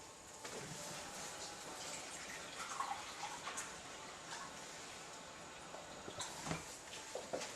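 Water pours from a tap or container into a soup pot, making a soft, steady gushing and splashing with a few drips. The sound is faint and close, with no talking over it.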